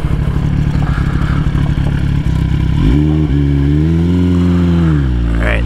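A 2022 Kawasaki ZX-10R (Gen 6) sport bike ridden on tight roads, its engine note close and loud throughout, holding a steady drone and then rising and falling as the throttle changes.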